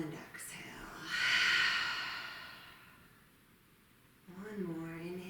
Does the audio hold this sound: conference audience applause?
no